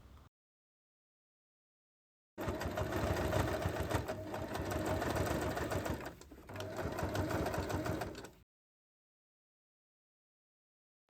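A sewing machine top stitches a small handbag 2 mm from the edge, running in one long steady burst with a brief slowdown midway, framed by silence before and after.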